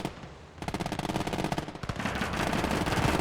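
Rapid machine-gun fire in the WWII real-time strategy game Gates of Hell: Ostfront, a dense sustained rattle of bursts that grows louder and busier over a few seconds with no talk.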